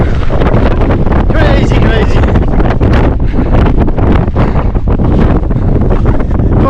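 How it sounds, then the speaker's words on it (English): Strong wind buffets the microphone on the coast of Gozo, a loud, constant roaring rush that persists without letup, with a brief spoken word heard over it. "Okay, this is mad wind. Real strong."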